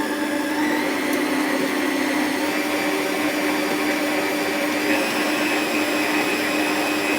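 Cream cheese cheesecake batter is mixed with a motorised mixer that gives a steady, loud, unbroken whirring drone throughout with no pauses.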